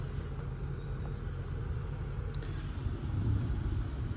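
A 2024 Mercedes-Benz S-580 sedan parks itself using parking assistance, giving a low, steady, quiet rumble with no talk over it.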